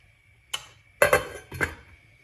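A lid goes onto a pot of fig marmalade with a short series of close metallic clanks: one light tap, then two louder rattling contacts as it settles.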